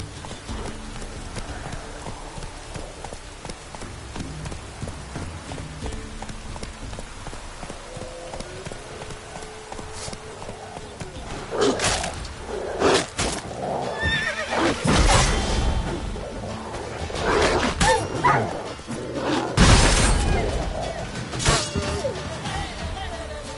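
Roach, the horse in The Witcher 3, gallops with pounding hooves and neighs loudly several times, with sharp crash-like bursts in the second half over a steady game background.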